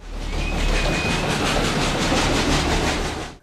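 Historic OK1 steam locomotive, built in Berlin in 1917, gives a loud, steady rumble of rolling wagons with a faint high whistle-like tone, continuous and near throughout.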